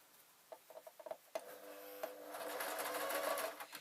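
A sewing machine stitches a straight seam on a knitting needle roll, starting with a few separate clicks before a faster steady whirr of needle strokes builds up, close and fairly quiet, with no voices.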